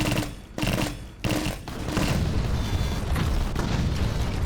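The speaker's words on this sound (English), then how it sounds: "Unleash the bombardment." Cluster bomb explosions from a bombardment in the Kriegsfront Tactics video game: two sharp booms, then a dense unbroken rumble of overlapping blasts that keeps going to the end.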